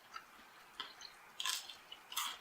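Crisp bites into a South African KFC fried chicken drumstick, several sharp crunches close to the mic at irregular intervals against a quiet background.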